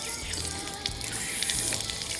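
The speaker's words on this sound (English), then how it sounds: "You know, I should really shut the water off" Water pours steadily from a garden hose while an RV is washed outdoors on a hot day, a continuous close rushing hiss with no pauses and no talk.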